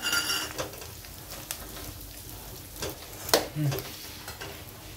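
Chili and crushed peanut powder being sautéed in a pan, with a soft continuous sizzle and a few scraping stirs and light clinks of the spoon against the pan.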